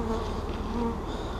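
Dense, steady buzzing of many honey bees at the entrance of a hive holding vacuumed bees from a removal, close and continuous with a low droning hum and no speech.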